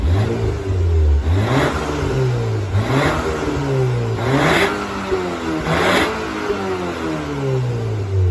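A 2023 Porsche Macan 2.0 with an aftermarket Fi mid and rear exhaust revs repeatedly, loud and close, with several rising blips and drops between short idling stretches.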